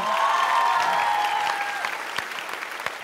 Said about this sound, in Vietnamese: Một tràng pháo tay nồng nhiệt chào đón Ngọc Khánh.